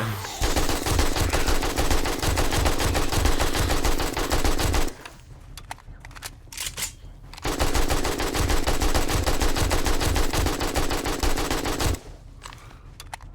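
Sustained bursts of AK rifle fire in the zombie survival game 7 Days to Die, loud and rapid, in two long volleys separated by a few seconds of quieter background noise.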